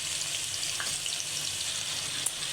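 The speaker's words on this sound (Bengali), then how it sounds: "প্রথমে তেল গরম করে সবজিটা ভেজে নেব।" Potato, papaya and other vegetables frying in hot oil in a home kitchen, a steady broadband sizzle running unbroken and fairly loud throughout, with no talking.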